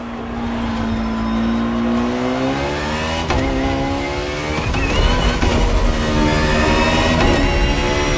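Ferrari FXXK track-only racing car in The Crew Motorfest video game, its engine revving and climbing through rising pitch sweeps, loud and close with a brief shift dip before roaring up again.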